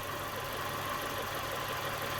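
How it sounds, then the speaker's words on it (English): A car engine idling with an uneven, stuttering running note, steady and moderately close, the rough misfiring hum continuous with no voices over it. "the engine stuttering"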